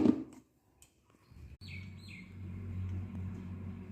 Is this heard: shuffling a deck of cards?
no